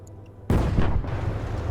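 Gunfire in the video game Broken Assault: a sudden heavy boom erupts after a brief quiet, followed by a rolling rumble and a second crack, loud and close with no talk.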